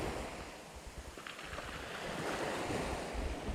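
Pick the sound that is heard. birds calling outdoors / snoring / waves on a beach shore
waves on a beach shore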